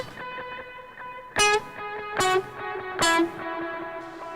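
Electric guitar played through two dual delay pedals and a reverb pedal, with three loud strummed chords ringing out between quieter picked notes, each trailed by long echoing repeats and a wash of reverb.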